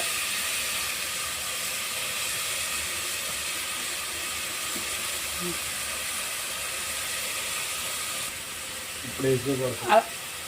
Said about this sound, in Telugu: ముందుగానే కోసి పెట్టుకున్న ఉల్లిపాయలు అందులో వేసి బాగా గోల్డెన్ కలర్ వచ్చేలా వేపించుకోండి